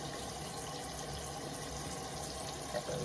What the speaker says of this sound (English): just wash my face